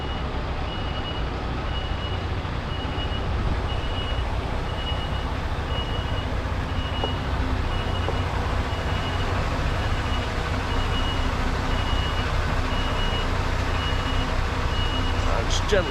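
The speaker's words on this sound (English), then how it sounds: "Need to reverse onto Bay 3. Let's get the trailer over." A lorry reversing a trailer onto a loading bay, its reversing alarm beeping at a steady regular pace over a constant low engine rumble, close and sustained throughout.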